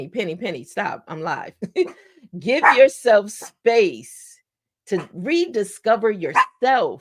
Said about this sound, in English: I'm sorry, y'all. That's my dog.